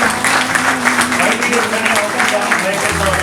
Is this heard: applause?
yes